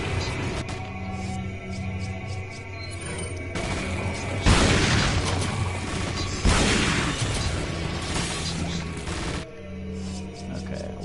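An incendiary grenade goes off in Resident Evil 4, with two heavy, rumbling fiery bursts, each followed by a roaring whoosh of flame over a steady game ambience.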